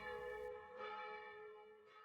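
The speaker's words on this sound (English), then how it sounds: "It's the new church bell, Laura." A newly installed church bell rings with a clear, sustained tone and long ringing overtones, the strike renewed as the sound decays, heard fairly faintly from a distance with no talking.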